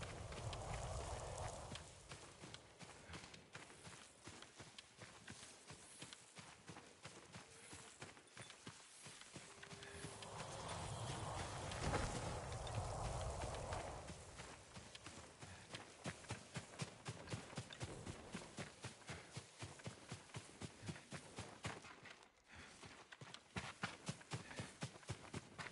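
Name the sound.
horse hooves in video game Ghost of Tsushima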